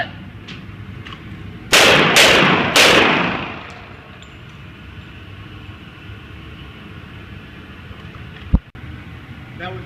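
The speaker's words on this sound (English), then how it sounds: "That was a good example of shooting from the hip, retreating, and getting the gun up to your natural point." Three loud, sharp gunshots crack in quick succession, fired from the hip during a retreat in a defensive shooting drill, each shot followed by a ringing echo, then quieter handling noise and a single sharp knock.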